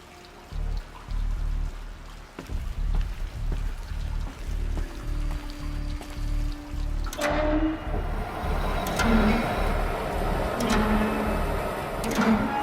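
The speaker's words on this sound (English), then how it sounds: "The water's flowing, just not where it needs to." Steady flowing, pouring water in the Horizon Zero Dawn video game, a continuous wash that grows fuller and brighter partway through, with brief clicks and tonal game sounds over it and no talk.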